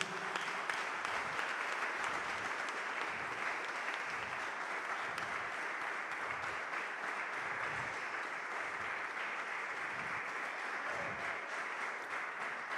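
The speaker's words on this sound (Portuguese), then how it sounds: "Você pode dar uma salva de palmas bem forte para Jesus?" A church congregation claps loudly and steadily for several seconds, a dense wash of applause with no voices over it.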